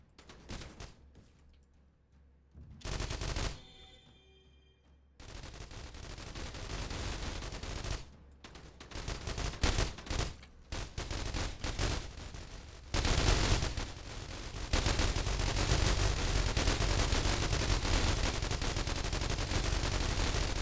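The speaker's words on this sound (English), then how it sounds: "God damn, loud ass turrets." Loud, sustained turret gunfire in the video game The Walking Trade during a HellRaid wave, rapid continuous bursts building to a dense, unbroken roar after brief pauses.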